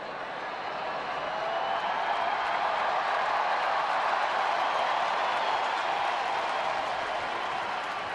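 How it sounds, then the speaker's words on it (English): A baseball crowd at Fenway applauds a security guard's open-field tackle, a broad, steady wash of distant clapping and murmuring that swells slightly and holds. "Crowd saluting the open tackle from the security guard who heads back to his spot in the bullpen."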